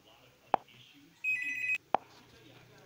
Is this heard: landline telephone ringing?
yes